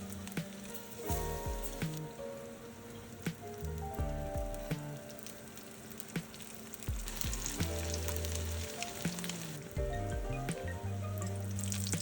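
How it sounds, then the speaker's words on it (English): Tofu pieces frying in oil in a frying pan over medium heat, giving a steady, crackling sizzle with scattered pops, close and continuous, with no talk and some faint clinks and background tones. "Fry the tofu until crispy on all sides."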